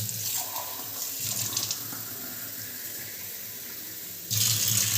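Water is measured out by the glass and poured over lentils for a Kerala-style dal curry, a steady close splashing stream that fades and then surges again near the end.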